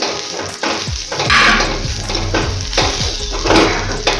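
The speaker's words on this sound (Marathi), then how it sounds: "आता हे पण या कांद्यातच व्यवस्थित भाजून घ्यायचं आहे" Grated coconut roasts with onion in a pan for a Maharashtrian egg curry, sizzling steadily while a spatula scrapes and stirs against the pan in a repeated rhythm.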